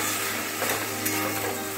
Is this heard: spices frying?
yes